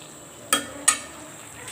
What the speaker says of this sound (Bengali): এদিকে শাকটাকে একটু নাড়া দেবো।